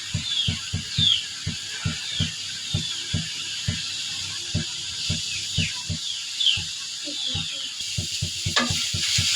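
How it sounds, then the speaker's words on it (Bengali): Radish greens with salt, green chili and onion frying in a pan, with a steady background sizzle and regular, evenly spaced taps and scrapes of a utensil stirring throughout. "এই যে মূলার শাকটা আমার ভাজি করা হয়ে গেছে"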